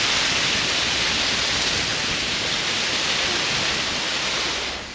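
A glacier-fed waterfall roars as a loud, steady rush of white water that fills the scene, without a break and with no voices, fading slightly at the end.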